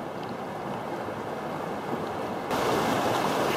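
A river rushes and splashes around protruding rocks in its channel, a steady, close wash of water noise with no break, swelling a little louder toward the end.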